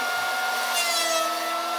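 A short burst of a wood planer's high whine and rough grinding as a board about 2 inches wide and 1.25 inches thick is fed through, steady and close.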